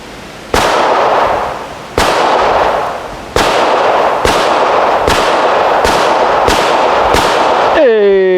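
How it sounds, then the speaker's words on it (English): Seven sharp, loud gunshots crack from a customized Hi-Point C9 9mm pistol at a shooting range. They fire at a steady pace about a second apart, each with a short echoing tail, and end in a ringing tone. "this is the best High Point I have ever shot"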